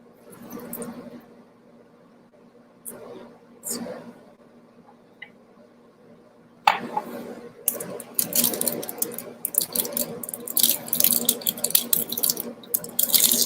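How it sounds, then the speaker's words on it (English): Water pours from a tap into a cooking pot for ramen on high heat, a loud, steady rushing splash that starts abruptly partway through after quieter clinks and kitchen handling. "High heat, pour in some water."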